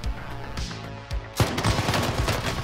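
A FiNN light machine gun fires in Call of Duty: Warzone: a dense, sustained burst of rapid automatic shots that starts after a quieter stretch of game noise and carries on loudly to the end.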